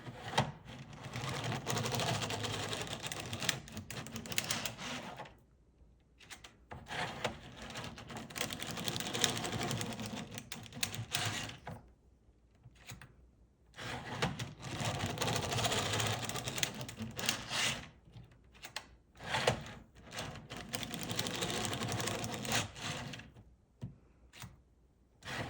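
A domestic knitting machine works short rows on a cuff-down sock, the carriage rattling and clattering across the needle bed in several passes of a few seconds each, separated by brief quiet pauses.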